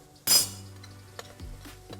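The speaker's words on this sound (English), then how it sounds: "let me get it all mixed up" A spoon clinks sharply against a pot while seasonings are stirred into cabbage and sausage, one bright metallic hit followed by a few softer scraping knocks and a low hum.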